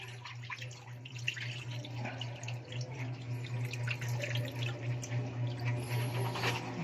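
Tomatoes are rinsed in water for a soup in a home kitchen, with faint, steady trickling and light splashing over a low constant hum, and no talk.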